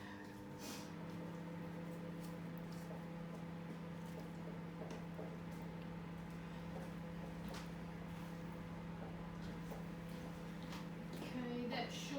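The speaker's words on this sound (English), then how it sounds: "Couple of seconds in the microwave." A microwave oven hums steadily for several seconds while cake icing is softened, a low, even drone with faint clicks and a person talking over it.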